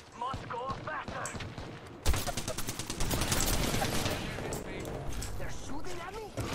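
Gunfire in Apex Legends, rapid automatic bursts that erupt abruptly and keep rattling densely and loudly, close by, with a player talking over the shooting.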